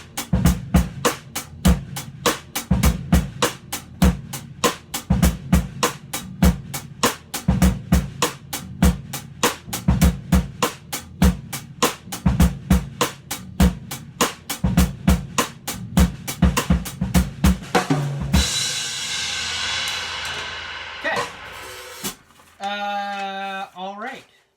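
A drum kit plays a steady, driving beat with regular kick and snare hits, closing with a fill before the playing stops and a brief scrape follows.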